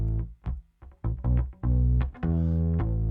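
Funky bass guitar line with a direct signal layered under a distortion plug-in for extra growl and brightness, played as short plucked notes and held tones, loud and close, with no talking.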